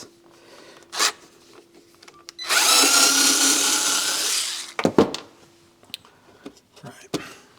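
Power drill backing screws out of a Pioneer PL 570 turntable during repair, one steady whirring burst of about two seconds, close and loud, with faint handling clicks and knocks around it.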